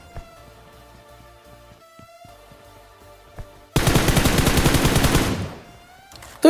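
Rapid automatic gunfire in the battle royale game BGMI bursts in loudly for about two seconds after quiet game ambience, then cuts off, followed by another sharp shot at the end.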